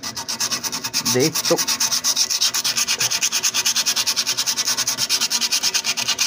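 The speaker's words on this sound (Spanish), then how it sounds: "al tambor también le vamos a dar una buena mano de lija para que todo tenga buen agarre" Brake drum on a Peugeot Expert van rubbed with sandpaper in fast, even back-and-forth strokes, a close, rhythmic scratchy rasp that continues throughout. A brief voice murmurs early on.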